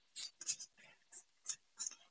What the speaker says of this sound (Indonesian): akan saya langsung shuffle kartunya